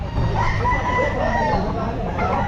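A stag rooster crows at a pet market, one drawn-out call rising and falling close by over busy background noise and nearby voices.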